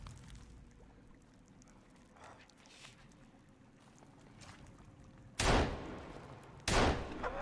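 Two loud, sharp gunshots ring out from a 9mm pistol in the survival video game Sons of the Forest, about a second apart, over a quiet outdoor ambience.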